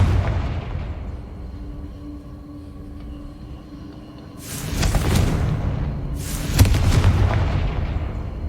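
The Confringo explosive spell cast in Hogwarts Legacy, a low rumble followed by two loud, close fiery bursts a couple of seconds apart, each trailing into a crackling decay.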